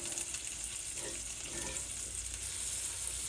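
Bread frying in butter in a pan for a patty melt, a steady soft sizzle throughout with faint stirring or shifting, close and moderately quiet, with no talking.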